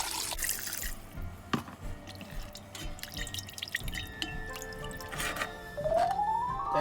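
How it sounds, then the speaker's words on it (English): Water or stock poured into a pan while cooking Thai green chicken curry, a faint splashing and trickling with a few drips, close by and quiet. "So we put some water or stock."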